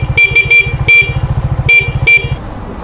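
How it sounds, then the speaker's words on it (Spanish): Car horn honked repeatedly outside a friend's house, several sharp short toots in an uneven rhythm over a close, steadily idling engine. "Te voy a pitar a ver si sales, güey."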